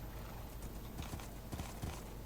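Hooves of a Minecraft horse on a survival server's livestock testing area clip-clop in quick, faint taps over a steady background hiss, with no talking.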